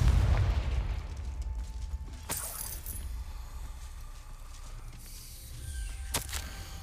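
A Confringo spell explodes in the Hogwarts Legacy video game, giving a loud burst near the start and another sharp blast later. Both sit over a low rumbling game soundtrack with no talk.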